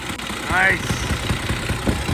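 A fully restored 1915 Harley-Davidson motorcycle, one of the first motorcycles, runs with a steady low engine throb at a classic car show. A voice is heard over the engine.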